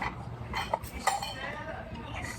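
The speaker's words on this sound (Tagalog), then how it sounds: "So ito, i-cut lang natin. Ito yung fish guys. So, i-cut natin." Fried galunggong fish is cut on a plate, with sharp clinks of cutlery against the dish and scraping sounds under a person talking.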